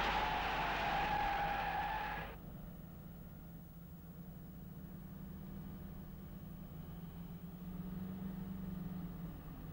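A 1970s Mercedes-Benz makes an ABS emergency stop while swerving around a sudden obstacle. A loud broadband tire-and-brake rush lasts about two seconds, then cuts off, leaving a steady low engine drone.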